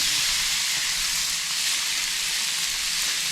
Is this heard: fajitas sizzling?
yes